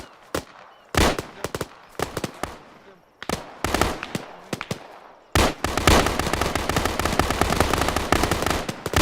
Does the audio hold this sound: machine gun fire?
yes